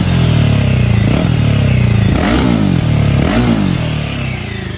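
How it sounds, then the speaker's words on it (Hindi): A Royal Enfield Himalayan 450 motorcycle with stock exhaust idles close by, its engine thrumming steadily with a few brief throttle blips rising and falling before the sound eases off slightly at the end. "स्टार्ट करिए गाड़ी तो इसमें साउंड सुन लो आपकी"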